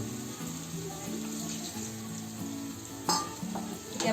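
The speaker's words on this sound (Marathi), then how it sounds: "इथे आपली वांगी पण बघा मस्त तेलामध्ये फ्राय होतात आहे" Eggplant frying in oil in a home kitchen while a spiced vegetable curry is being prepared, giving a steady close sizzle with a few louder crackles and stirring sounds toward the end.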